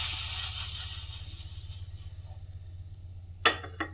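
Chole curry, a Punjabi-style chickpea dish, simmers in a pan with a low bubbling hum, then a spoon scrapes and clicks twice near the end as it is stirred.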